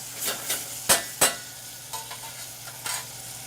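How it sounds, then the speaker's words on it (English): Garlic sizzling in a pan as it cooks for a pork ragu. Stirring scrapes and clinks come through at intervals over a steady, moderate fry, and nobody speaks. "when we add our garlic, we want to be able to just cook it for about 30 seconds or so, just to have it perfume"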